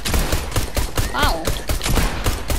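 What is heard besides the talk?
pump shotgun firing in Fortnite video game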